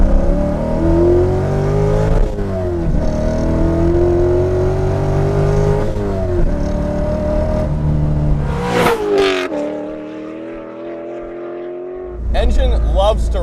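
A 550 hp C5 Corvette Z06 with an LS7 engine and short shifter revs hard through second gear, the engine note climbing loud and close in repeated pulls, then dropping away before a final burst, with talk over it.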